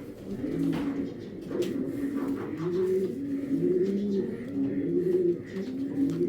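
Several club pigeons coo in a continuous run of close, rolling calls, loud and clear with little else around them.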